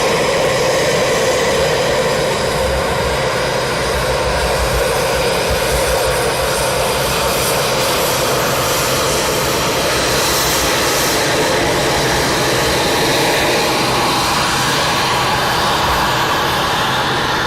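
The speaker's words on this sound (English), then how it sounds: "That's a 41 Squadron jet now going" An RAF 41 Squadron jet climbs away with a loud, continuous roaring engine rush that fills the air steadily, without speech.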